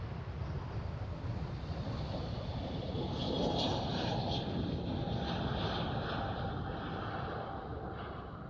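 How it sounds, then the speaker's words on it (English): A JetBlue airliner leaves Amsterdam Schiphol for Boston, its engines a broad, distant roar that swells and slowly fades, mixed with wind noise in the early morning. "JetBlue off to Boston"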